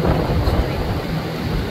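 Strong wind gusting at a beach ahead of a storm surge, a loud, constant roaring buffet across the microphone with deep rumbling swells.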